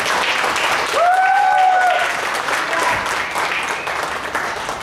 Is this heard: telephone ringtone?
no